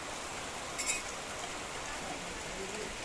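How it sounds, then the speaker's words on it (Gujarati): Rain falls at a farm, a faint, steady hiss of drops heard from a distance, with a brief louder patter partway through. "વરસાદ શરૂ થઈ ગયો."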